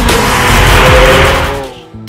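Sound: Lamborghini Aventador LP 750-4 Superveloce sports car engine

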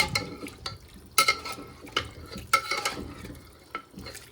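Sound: stirring soup ingredients with cucumber brine in an Afghan kazan

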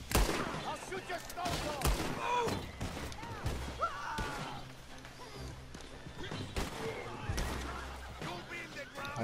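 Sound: gunfire in the video game Red Dead Redemption 2

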